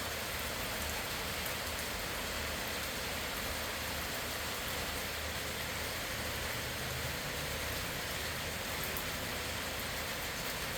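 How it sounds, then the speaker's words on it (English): Steady, gentle rain hisses evenly and continuously during Hurricane Beryl, a constant soft wash with no voices. "Nice easy rain."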